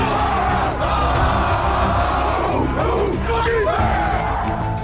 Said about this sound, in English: Crowd on its feet here at Finley Stadium in Chattanooga.